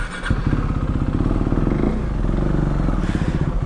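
Large big-bike motorcycles idling and revving nearby at a stop off the NLEX expressway, a loud continuous throbbing engine rumble with slight rev swells and no speech.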